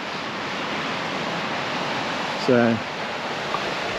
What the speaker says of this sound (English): that's releasing water. And yes, that's the Darling River, Lake Menindee outlet regulator